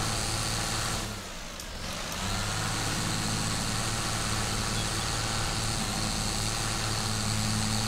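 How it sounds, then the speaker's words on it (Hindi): A Swaraj 855 tractor in Farming Simulator 22 labours stuck in a waterlogged muddy field, its engine droning loudly and steadily with a brief dip before pulling hard again. "फसदा है, अड़दा है ट्रैक्टर।"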